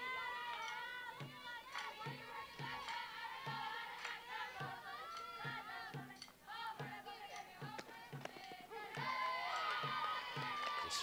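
Wildcats fans cheering at a college baseball game: a crowd claps and stomps in a steady rhythmic beat while chanting and shouting over it, with broadcast commentators talking on top.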